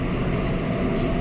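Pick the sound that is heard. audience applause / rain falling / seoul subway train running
seoul subway train running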